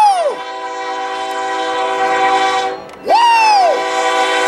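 A Kansas City Southern train horn sounds loud and close, two long blasts separated by a brief gap, over the steady rumble of the passing train, with a person's excited shout in the middle.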